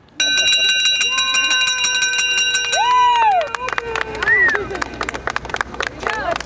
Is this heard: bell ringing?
yes